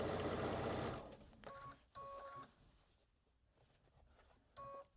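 A sewing machine stitching fabric runs in short bursts, its rapid mechanical whirring starting and stopping several times, fairly close and alone without talk.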